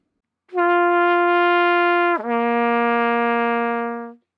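A trumpet plays a lip slur, a bright sustained tone that snaps down to a lower partial midway and holds, a single clean phrase about four seconds long with nothing else around it.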